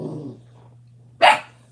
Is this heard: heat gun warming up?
no